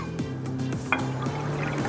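Water and lemon juice are poured into a pot with granulated sugar for a lemon sugar syrup to top a yogurt cake, a short, soft, steady trickle of liquid with faint clinks, close and quiet.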